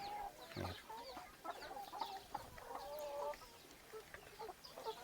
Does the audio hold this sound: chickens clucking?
yes